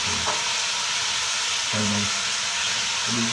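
A rice mixture with black pepper and tomato sizzles and fries steadily in a pot, a constant close hiss broken by a few brief stirring scrapes, with no talking.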